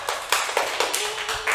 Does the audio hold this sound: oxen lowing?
no